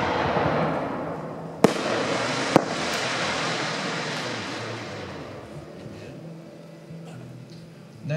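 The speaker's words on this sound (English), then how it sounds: "now we have a Vulcan 4-inch assorted go-getter" A Vulcan 4-inch assorted go-getter firework shell: two sharp cracks stand out over a long roaring, crackling wash of bursts that slowly fades.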